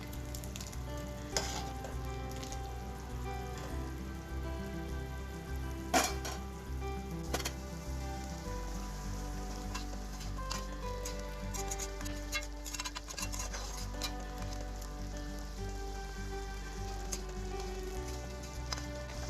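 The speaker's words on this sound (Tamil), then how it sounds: "குழம்பு நல்லா ஹை ஃப்ளேம்லேயே கொதிக்கட்டும்" Thick sardine fish curry bubbles and sizzles steadily in a pan over high flame, with occasional sharp clinks of a spoon stirring against the metal.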